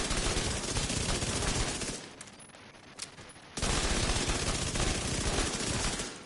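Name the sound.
SMG gunfire in video game The Division 2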